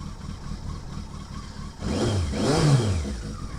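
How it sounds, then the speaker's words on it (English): Yamaha XJ650 Turbo motorcycle warming up on choke, a steady mid-pitched idle that swells into rising and falling revs in the second half, close and fairly loud. "We'll let it warm up with a choke on for a minute."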